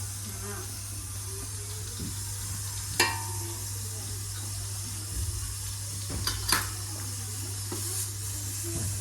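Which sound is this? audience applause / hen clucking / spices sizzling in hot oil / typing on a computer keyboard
spices sizzling in hot oil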